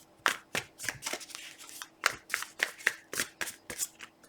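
Tarot cards shuffled by hand in a series of crisp, rapid riffles and slaps, fairly close and distinct, with short pauses between bursts and no talking over them.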